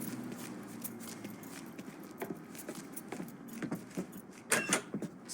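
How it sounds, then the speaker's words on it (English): Truck keys jangle in a Mafia III game scene, a few close, bright metallic rattles mixed with footsteps and faint engine hum, loudest near the end as they are picked up. "I grab the keys to the truck"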